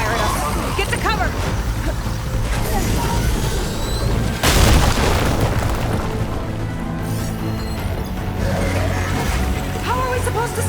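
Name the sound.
machine firing at the player in video game Horizon Forbidden West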